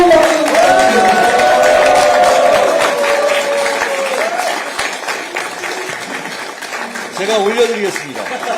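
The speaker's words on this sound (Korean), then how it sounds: "다시 한 번 더 뜨거운 박수 부탁드립니다." Sustained applause from a rally crowd at a Democratic Party event in Daegu, loud at first and gradually thinning, with music tones early on and a voice speaking near the end.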